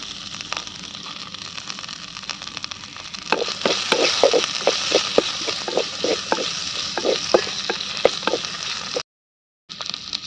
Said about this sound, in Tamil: வெங்காயம் வணங்குறதுக்கு எண்ணெய் ஊற்றிட்டு கருவேப்பிலை தழை போட்டுக்கலாம்.